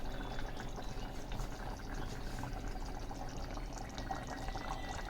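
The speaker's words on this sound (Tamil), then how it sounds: "மண் சட்டியில் அது நல்லா கொதிக்குது" Tangy kara kuzhambu bubbles in a clay pot with a soft, dense, continuous gurgle and popping, fairly quiet and steady throughout.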